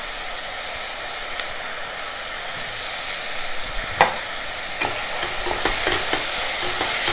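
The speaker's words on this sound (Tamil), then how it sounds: "இப்போ நல்லா இது ஒரு நிமிஷம் வறுத்த பிறகு கரம் மசாலா தூள் நம்ம விருப்பங்க, விருப்பம் இருந்தால் போடலாம்" Whole spices and garam masala powder frying in a pan for a pulav, a steady close sizzle with occasional stirring scrapes and clicks of a spoon against the pan, no talking.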